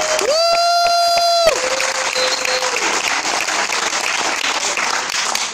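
A cruise-ship concert audience at a band Q&A claps and cheers for a band member. A sustained instrument tone rings over the opening second before the dense, lively applause carries on alone.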